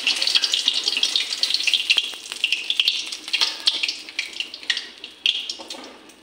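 Shredded pointed gourd for fulljhuri fries in hot oil, giving a close, continuous crackling hiss with small bursts of spitting.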